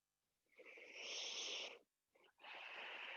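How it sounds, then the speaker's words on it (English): Heavy, strained breathing from a person mid-workout during a functional fitness session, close to the mic, with long raspy exhales and a short gasp between them. "you can hear me breathing like that because everything hurts"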